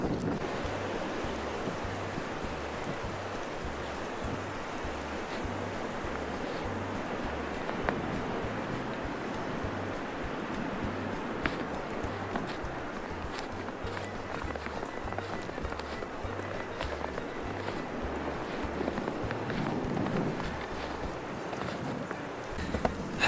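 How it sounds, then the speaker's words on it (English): Steady wind roars through a Pennsylvania snowstorm in the woods, a constant broadband rush with gusty buffeting against the microphone and no speech. "wind is picking up."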